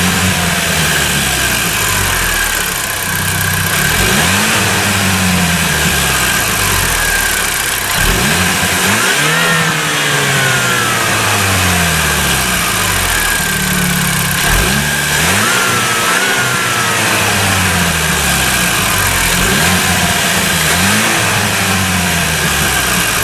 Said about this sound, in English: The engine is a turbocharged 2-litre 4-cylinder.